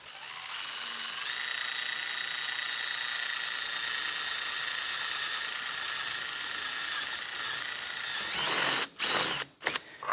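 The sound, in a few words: power drill drilling holes in sheet metal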